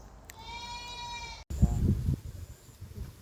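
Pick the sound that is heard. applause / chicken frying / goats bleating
goats bleating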